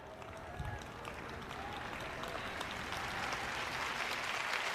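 A congregation at a sermon applauds, the clapping starting soft and swelling steadily louder over a few seconds, with some murmuring voices underneath.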